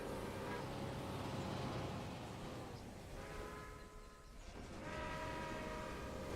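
Trains run in the railway simulation game Railway Empire, with a continuous rolling rumble and long droning horn blasts rising and fading across the scene.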